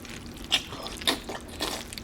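Thick, creamy mac and cheese being stirred in a pot, giving soft wet squishes and sticky smacks at an irregular pace, close and quiet.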